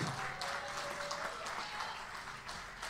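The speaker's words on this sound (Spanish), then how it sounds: "Un aplauso fuerte del auditorio." An audience at a live blues concert in a hall claps in a full, sustained round of applause, a dense crackle of hands that stays fairly even and moderately distant, with a faint lingering tone underneath.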